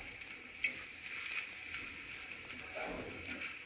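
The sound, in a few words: flatbread frying in a pan, flipped to the other side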